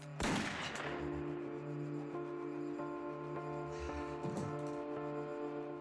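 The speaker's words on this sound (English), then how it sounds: "Next, Susan turns the gun on herself." A single loud gunshot from a handgun in a TV crime reenactment cracks out near the start, followed by a faint second pop later over a humming tonal music bed.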